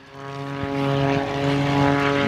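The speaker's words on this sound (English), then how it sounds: "that is a Hawker Sea Fury" A Hawker Sea Fury propeller aircraft, with its massive engine, passes at an air display at Biggin Hill, its deep droning engine note growing louder with a shifting Doppler sweep, steady and close, no talk.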